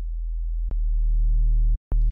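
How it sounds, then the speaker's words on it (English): A low sine-wave bass from the Serum synthesizer, distorted so it grows harmonics toward a square-like buzz, plays as sustained held notes broken by short clicks and a brief gap, loud and alone. "when we are distorting a sine wave like this"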